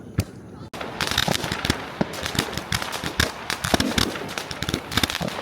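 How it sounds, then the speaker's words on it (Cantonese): Jellyfish fireworks set off beside the Dongping River burst in rapid, dense crackling pops and sharp bangs that keep going, close and loud, while people talk over the noise. "咁由於係第一次放呢個水母煙花，真係好緊張"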